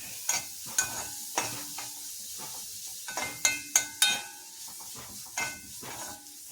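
Food frying in coconut oil in a pan, a steady soft sizzle broken by a series of sharp scraping stirs and clinks of a utensil against the pan.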